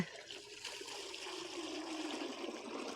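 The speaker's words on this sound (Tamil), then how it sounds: "ஸோ இந்த அளவு தண்ணி ஊற்றிக்கிறேன்" Water poured into a fish tank being set up, a steady close trickling and splashing stream that grows slightly fuller over a few seconds.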